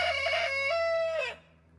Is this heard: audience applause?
no